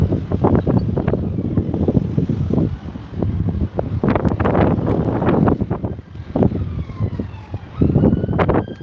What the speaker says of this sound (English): I can't hear you because of the wind.